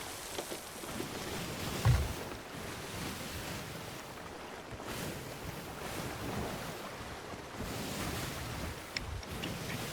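Ocean waves and wind at sea in Sea of Thieves, a continuous rushing surge with swells rising and falling, a boat moving through the water, with a brief low thud early on.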